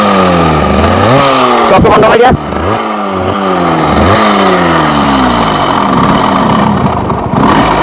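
A Yamaha RX100 motorcycle with a seized, badly running engine revs up and down in rough, uneven surges, loud and close, while someone talks over it.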